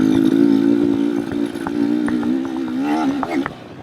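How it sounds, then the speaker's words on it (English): Beta dirt bike with a smooth counterbalanced engine, running steadily close up with a strong low hum and slight revving near the end. "a fantastic counterbalanced engine"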